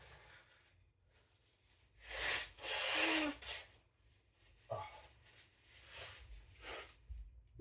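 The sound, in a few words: person blowing nose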